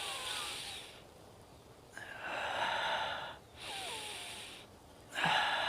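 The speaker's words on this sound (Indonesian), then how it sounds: "saat sahabat menghirup napas dari hidung ya, nah yang mengembang itu perutnya" Several audible breaths drawn in through the nose for belly breathing, each a soft airy rush lasting about a second, separated by short pauses, close and alone.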